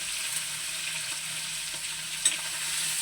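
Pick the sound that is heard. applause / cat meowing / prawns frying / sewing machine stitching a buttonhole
prawns frying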